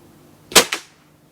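Hatsan 6.35 mm break-barrel air rifle at 20 joules fired while plinking, one sharp close crack followed a beat later by a second, softer impact snap.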